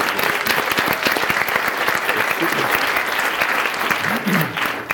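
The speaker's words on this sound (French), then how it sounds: "Toujours avec des applaudissements aussi chaleureux" A conference audience at a social media panel applauds warmly as a panelist is introduced, dense sustained clapping close and loud throughout, with a voice briefly heard under it near the end.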